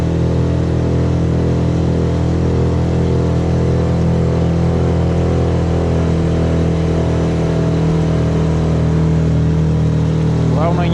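Steady mid-pitched engine drone of a vehicle driving home along a remote taiga route, loud and constant throughout with a faint squeak near the end and no speech.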